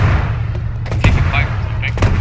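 Gunfire in a military video game: a few sharp shot cracks and bursts land at irregular intervals over a steady low rumble, fairly close.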